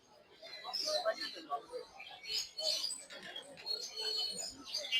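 Pigeons and quails chirp and coo at a bustling poultry and bird market also selling chickens and ducks, the calls scattered and fairly close beneath steady talk from people nearby.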